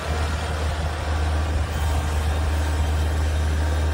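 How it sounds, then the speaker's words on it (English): A tractor with a front bucket clears snow while its engine runs in a steady, heavy low drone. It sounds fairly close and continuous, with no talk. "Nice to have a neighbor with a nice tractor and a bucket on it."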